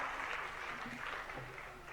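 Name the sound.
audience applause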